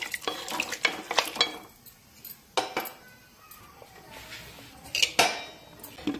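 Spoon stirring cumin powder and garam masala into masala khichdi inside a pressure cooker, giving close, repeated scraping and clinking strokes of metal on metal in short bursts with pauses between.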